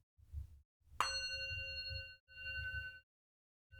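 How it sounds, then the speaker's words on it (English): A small mindfulness bell struck once, ringing out with a clear sustained tone that fades slowly, then struck again more softly near the end, over a low background rumble. "I like to close that little exercise with another bell"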